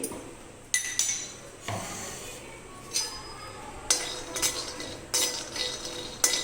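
Peanuts dry-roasting without oil in a hot pan on a stove, giving intermittent clinks and rattles of nuts and a utensil against the metal, fairly close and moderately quiet, with no talking.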